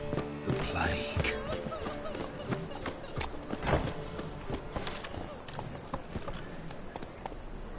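Roach the horse gallops in a video game, a rapid rolling clip-clop of hooves with a brief whinny, fairly loud and close under a game backdrop with occasional voices talking.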